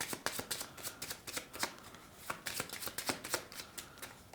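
Playing cards being shuffled during a close-up magic trick, a rapid run of crisp riffling bursts and flutters repeating through the whole stretch, close and clear with no talk.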